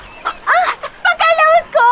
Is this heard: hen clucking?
yes